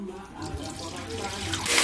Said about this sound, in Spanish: Vamos a botar el agua.